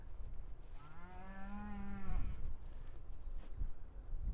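A single cow moos on a farm, one drawn-out low call at moderate distance, followed by quiet ambient noise and soft thumps.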